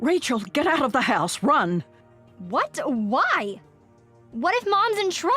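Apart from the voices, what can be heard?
No distinct noise like a dog, phone or traffic.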